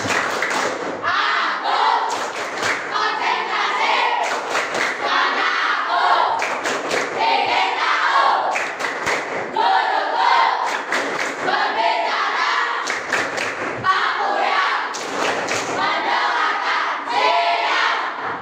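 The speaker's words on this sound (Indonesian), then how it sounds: "tepuk konsentrasi" Primary school children clapping in unison in a classroom, a loud rhythmic concentration clap with repeated bursts of sharp claps and group shouts in a patterned beat, close and continuous throughout.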